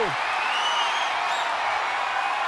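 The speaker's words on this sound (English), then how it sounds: "What a raucous crowd here tonight." Crowd noise from a wrestling arena in the WWE 2K24 video game, a loud, dense, continuous roar of cheering that stays steady from start to finish.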